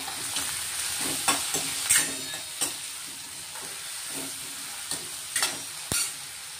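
Asafoetida and finely chopped tomato sizzle and crackle in hot oil for a dal tadka tempering, with a steady frying hiss broken by sharp pops and clinks of stirring, close and alone without talk.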